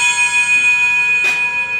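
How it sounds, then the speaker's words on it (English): A ship's bell rings with a steady, sustained metallic tone during a live tabletop role-playing session, with one fresh strike partway through adding a brief, brighter accent. "It's a ship bell."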